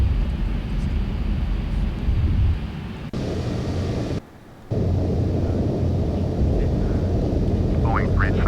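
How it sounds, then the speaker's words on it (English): A Boeing 737 rolls for takeoff in a flight simulator game, a loud steady engine roar with broadband rumble that briefly cuts out and returns, with radio-style talk over it. "Boeing November 737 Whiskey, cleared for takeoff, runway 32 right"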